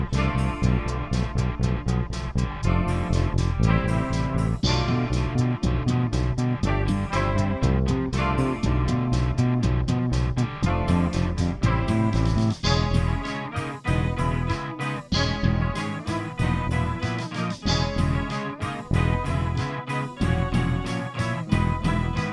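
Rock mix with double-tracked guitars and newly recorded bass parts, panned across the stereo field: a dense, loud, continuous band arrangement with steady driving rhythm and punchy drums, no voices talking over it.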